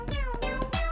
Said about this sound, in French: La sérénade des chats endort Pikachu.